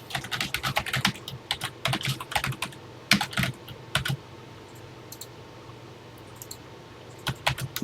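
Someone types a program on a Texas Instruments TI-99/4A computer keyboard, with quick bursts of close, crisp key clicks broken by short pauses and a quiet stretch.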